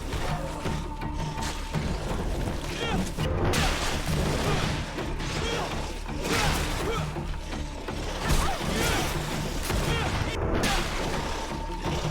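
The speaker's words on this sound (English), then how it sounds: "Ready to shoot! Fire!" Battle noise from Greedfall: a dense volley of gunfire with crashes and booms, loud and continuous throughout, with no clear separate shots.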